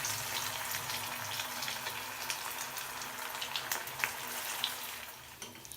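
Kofta balls frying in oil in a wok over a medium-to-low flame give a steady, close sizzle with scattered crackles and pops throughout, with no talking.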